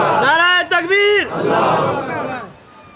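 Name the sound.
crowd chanting in response to the slogan Naara-e-Takbeer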